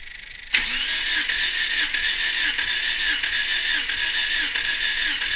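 A car engine cranks over steadily on the starter for a compression test on cylinder 4 of a GSR build, a loud, even, rhythmic churning that begins abruptly and runs without pause, with no voices over it.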